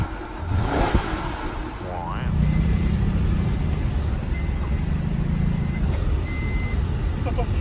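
Ford F-150 truck engine running, a steady mid-pitched idle rumble close by, with people talking over it.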